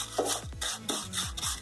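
Vermicelli roasting over a low flame as a spoon stirs it around the pan, several rasping scrapes in an even rhythm, close and clear with no talking.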